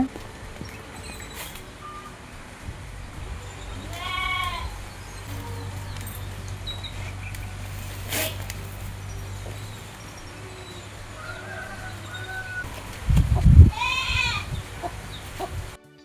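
Goats on a farm bleat several times at close to middle distance, wavering cries spaced across the clip over a low steady hum, with a brief thump near the end and no talking.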